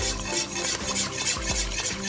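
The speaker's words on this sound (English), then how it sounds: "Stir it up." A spoon stirs a mixture with vanilla extract in a pot or bowl, making rhythmic scraping swishes with a faint sizzle beneath. Each stroke is close and repeats about twice a second.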